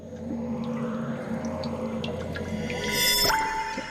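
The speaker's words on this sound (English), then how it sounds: "The sound of water." Water drips from the Genshin Impact Neuvillette teaser trailer, with scattered soft drops and light liquid trickles over a low sustained musical drone, building a little louder near the end.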